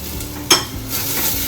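Garlic and long-sliced onions go into hot yellow mustard oil with a sharp burst of sizzle, then settle into a steady frying hiss, with a little stirring. No one speaks.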